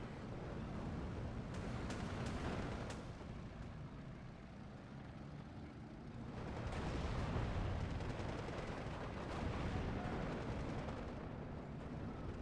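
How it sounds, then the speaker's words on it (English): Cluster bomber strikes in the Steel Division 2 wargame: a dense, roaring barrage of rumbling explosions and crackling bursts that eases briefly, then swells again to a loud, sustained thunder. "And just bringing out the cluster bombers."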